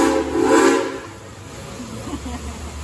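Dollywood Express No.70 steam train rumbling along on a theme park ride, its whistle sounding loudly at the start before a low rolling clatter continues under faint voices.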